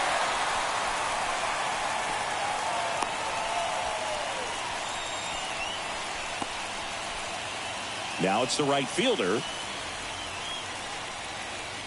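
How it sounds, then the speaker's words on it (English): Steady rain hiss falls over a baseball stadium in MLB The Show 24 during a Yankees vs Guardians game, a constant wash of noise under a commentator's voice, with a brief burst of crowd or other noise near the end. "This rain is not letting up."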